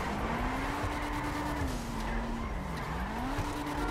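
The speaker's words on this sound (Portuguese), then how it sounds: "O carro faz muito drift, galera." A car in GTA Online drifting on tires set up for drift, with a sustained, wavering tire squeal over a steady engine drone, loud and close throughout.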